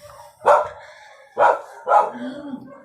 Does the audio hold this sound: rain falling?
no